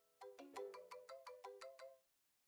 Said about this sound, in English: The ringing was non-stop.